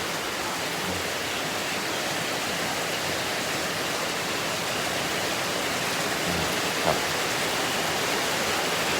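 Steady heavy rain with rising floodwater at a garden pond in Roi Et, Thailand, a dense unbroken hiss and rush that stays loud and even throughout, with no voices.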